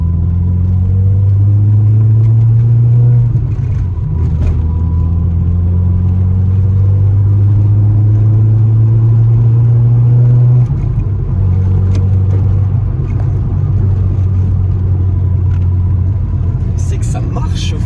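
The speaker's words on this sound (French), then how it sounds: "Et on va tirer une petite accélération." A car fitted with a stainless steel exhaust silencer drones loudly at steady revs, then shifts pitch and climbs again under acceleration, with someone speaking French over the continuous close engine sound.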